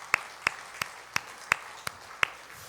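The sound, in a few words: applause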